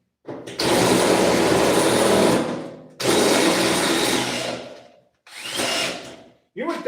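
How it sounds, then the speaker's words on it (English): Power drill boring through sheet metal while fabricating a hood latch for a Lamborghini Terzo Millennio replica supercar: three sustained, loud whining bursts of about two seconds each, separated by short pauses, then a brief fourth start. "You would think I was driving through a titanium sheet metal the way this is drilling."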